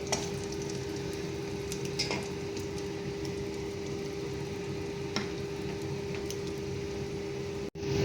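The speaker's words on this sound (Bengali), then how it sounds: "মশলাটা ভাজা ভাজা হলে তারপরে এই মশলা গোলাটা ছেড়ে দেব।" Masala paste fries in a pan for a Bengali cauliflower curry, giving a steady, close sizzling hiss with small pops and occasional stirring clicks, plus a constant faint hum in the background.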